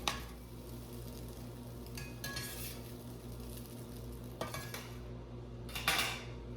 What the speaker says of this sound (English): so I'm gonna just cut them up into small little pieces and put them aside in a bowl